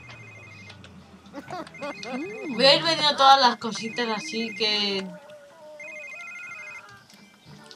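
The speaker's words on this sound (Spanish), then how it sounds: "¿Y si contestas al teléfono?" Mobile phone ringtone chiming in The Sims 3, a repeating electronic melody that plays under someone speaking Spanish, loudest mid-way and continuing softly after the talk stops.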